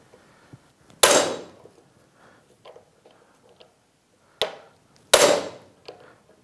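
An impact screwdriver struck by a hammer to free a stripped screw on a master cylinder: three sharp metallic blows, close and loud, each ringing briefly, with faint handling clicks in between.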